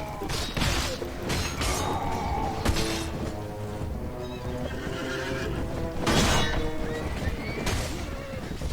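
Horses whinny and neigh amid clattering hooves, thuds and clashing noise of a chaotic cavalry battle in Mount and Blade: Warband, several loud bursts over a busy background.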